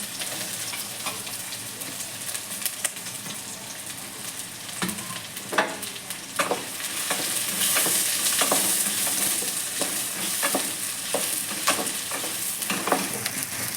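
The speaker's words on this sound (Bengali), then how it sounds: "আমি তেলের মধ্যে একটা তেজপাতা ফোড়ন দিয়ে দেবো আর উঁচু করা পেঁয়াজটা তেলের মধ্যে দিয়ে দেবো" A bay leaf and sliced onion frying in hot oil, a continuous close sizzle growing louder midway, with regular stirring scrapes and clacks.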